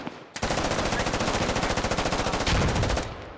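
Sustained automatic gunfire in a squad-based tactical shooter battle, a long rapid burst of close, loud shots firing in a fast even rhythm for about three seconds before cutting off.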